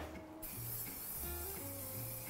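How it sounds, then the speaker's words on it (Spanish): A short hissing burst of release spray from an aerosol can into a bowl used for pizza dough, heard quietly in a kitchen over faint background tones, with no talk during the spray. "vamos a ponerle un poquito de spray desmoldante"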